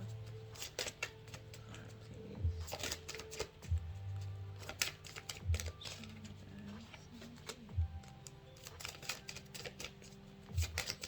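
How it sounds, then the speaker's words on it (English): Tarot cards being shuffled by hand in soft, irregular bursts of riffling and patter, fairly quiet and close, with brief pauses between rounds and no talking. "They're going to make me shuffle for a while."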